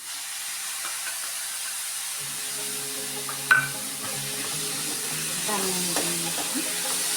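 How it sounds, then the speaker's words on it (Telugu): Tomatoes hit hot oil in a pan for a methi tomato curry, setting off a steady sizzle and hiss that rises midway, with light stirring and clinking of the pan throughout. "మనం ఇప్పుడు టమాటా వేసుకుందామండి."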